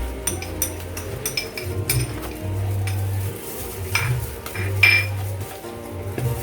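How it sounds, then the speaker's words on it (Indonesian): Donut dough ingredients, instant yeast, sugar and milk powder, are stirred in a bowl: repeated close scraping and clinking of a utensil against the bowl in an uneven rhythm, with no talk. "Kita aduk rata."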